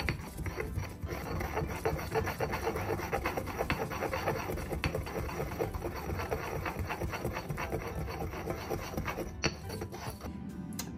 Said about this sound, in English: mortar these two pieces of garlic together with some